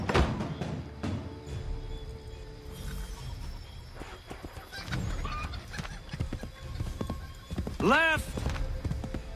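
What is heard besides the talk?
horse galloping hooves in video game Assassin's Creed 3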